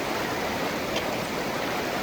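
Fast river water rushing during a river crossing, a steady broadband wash with no pauses, close and continuous, no voices.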